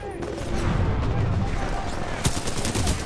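Sustained gunfire in the game Titanfall 2 from a rifle with a 32-round magazine, loud and dense throughout with a sharper burst near the end, voices faintly mixed in.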